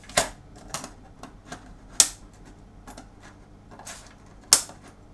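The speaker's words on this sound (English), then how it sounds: "I can now trim off the legs of the LEDs." Wire cutters trim LED legs on a Music Thing Modular CONTROL build, making sharp isolated snips at irregular intervals, with a few louder clicks standing out and quiet pauses between them.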